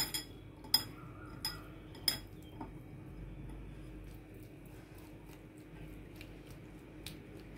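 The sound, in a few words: spoon mixing paneer with salt, pepper and chilli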